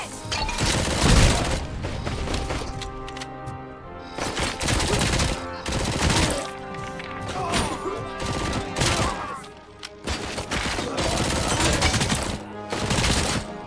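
Gunfire in the RoboCop video game while shooting at enemies: repeated loud bursts of automatic fire in dense clusters, with brief gaps between volleys, close and sustained.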